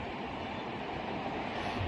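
A passing train gives a continuous, loud, broadband rumble close by, steady throughout the short stretch with no voices over it.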